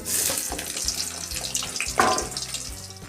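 Onions frying with five-spice seeds and bay leaf in hot mustard oil in a wok give a steady, close, watery hiss and crackle, with a brief louder sputter partway through.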